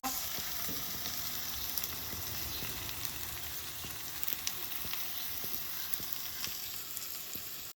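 Carrot, capsicum and onion shallow frying in a pan, a steady soft sizzle of oil with occasional stirring scrapes, quiet and continuous with no talk.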